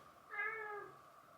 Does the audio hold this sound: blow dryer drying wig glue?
no